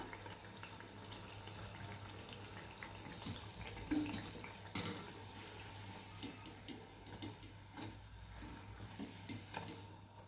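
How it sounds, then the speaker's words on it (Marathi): Puris made from maida and potato fry in hot oil, a quiet continuous bubbling sizzle with recurring soft stirring and scraping knocks as they are moved and lifted out. "बघा छान तळल्यात आता ह्या आपण काढून घेऊया"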